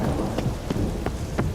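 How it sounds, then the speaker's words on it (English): Steady rain pours in a video game set in the city of Novigrad, a dense continuous hiss with a few brief brighter spatters, heard alone without talk. "Rain again."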